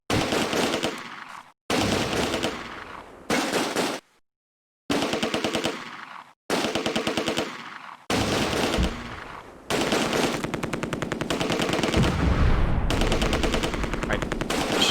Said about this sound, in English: Machine gun team in the building, shoot these guys.